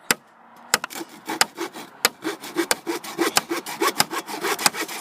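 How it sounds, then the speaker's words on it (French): A handsaw cuts through wood on a construction project, with sharp rhythmic strokes, about a dozen rasping pushes and pulls, close and loud, with no talking. "Je suis concentré à scier"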